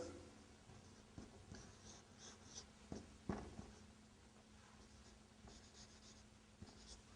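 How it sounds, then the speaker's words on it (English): Marker writing on a board during an Arabic lesson, faint scratchy strokes and taps in short irregular bursts over a quiet room hum. "If I write Al-Kitab, I will write like this."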